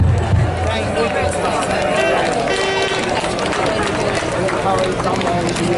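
A large crowd gathered outdoors at a London anti-geoengineering rally, a dense continuous hubbub of many overlapping voices and movement, with nearer voices talking over the babble.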